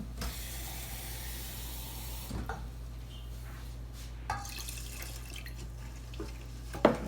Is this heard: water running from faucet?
yes